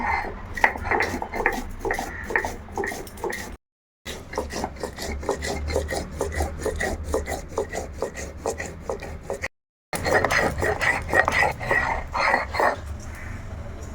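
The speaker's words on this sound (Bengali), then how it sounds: "এখন এই মশলাগুলো একটু আমি বেটে নেব" Cumin and other spices are ground by hand on a stone, a close, steady, rhythmic rasping and rubbing that goes on for several seconds, stops twice briefly, then carries on.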